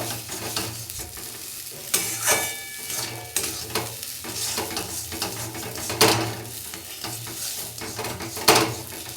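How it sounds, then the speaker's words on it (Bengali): Semolina is stirred and scraped around a hot pan until dry and crumbly, with repeated loud spatula scrapes and metal clatter over a low sizzle, close by and without talking. "জলটা শুকিয়ে গেছে, এবার সুজিটাকে আমি ঝুরঝুরে করে নেব।"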